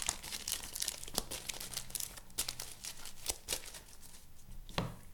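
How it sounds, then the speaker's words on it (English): Deck of game cards shuffled by hand on a table, with soft crinkly riffles and sharper snaps at irregular intervals, quiet and close, with no talk. "So I'm gonna shuffle this way."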